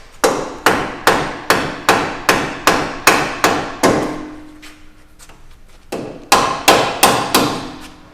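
A dead blow hammer taps bushings into crossmember tabs on a Toyota Tacoma during a coilover install: about nine evenly spaced solid thuds, a pause with lighter knocks, then another run of five blows, loud and close.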